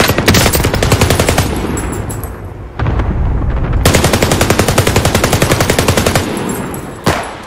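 Rapid submachine gun fire from a video game, long sustained automatic bursts that cut off briefly near the three-second mark and resume loud and dense, closing with a single sharp report.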